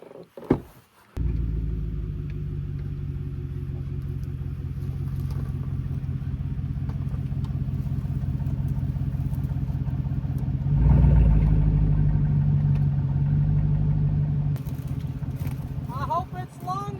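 A truck engine idling with a steady low rumble after starting, swelling briefly as it revs, then settling, close by, with a voice speaking near the end.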